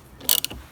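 A ratchet works the 10mm nut on the positive battery terminal of a Chevrolet Colorado or GMC Canyon, giving a quick, close burst of a few clicks lasting under half a second.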